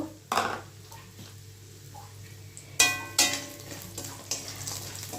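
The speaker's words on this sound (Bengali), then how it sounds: "দেখো বড়ি নিয়েছি বড়িটা ভেজে নেব" Bori lentil dumplings frying in a pan of hot oil, with sharp bursts of sizzling and light clinks of a spatula or utensil against the pan, alone without talk.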